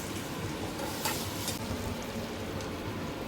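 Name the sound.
stirring boiled eggs into gravy in a pan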